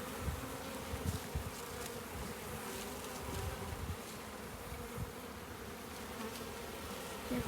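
Saskatoon honeybees buzz continuously around a phone, a dense, steady swarm drone holding at an even level throughout with no voices.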